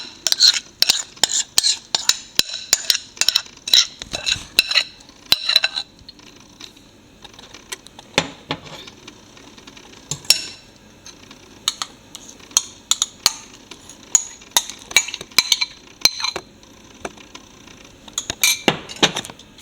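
Banana bread batter mixed in a bowl, with a spoon clinking and scraping against the sides in quick repeated strokes and a few short pauses, close and clear with no talk.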